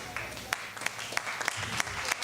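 A small audience claps briefly as a show-of-hands vote, with sparse, distinct claps and a few sharper individual hits scattered over a short stretch of moderate applause.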